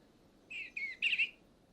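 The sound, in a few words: birds singing in Shenandoah National Park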